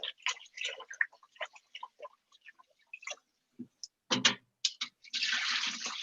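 Jasmine rice is rinsed in water: light clicks and splashes come and go as the grains are swished, then a sustained rush of running water fills the end, close and fairly quiet.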